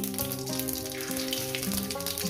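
Whole spices, cumin seeds and a split bay leaf, crackle and sizzle in hot oil in a pan, a close, steady frying hiss with music playing underneath.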